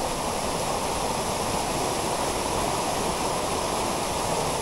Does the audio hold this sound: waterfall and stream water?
yes